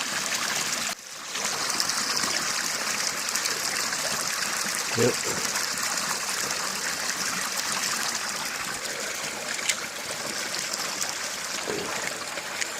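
Steady rushing water of a brook flowing throughout, with a brief spoken word near the start.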